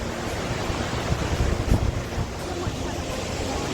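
A waterfall roars without a break, a broad, constant wash of rushing water with some gusty rumble mixed in.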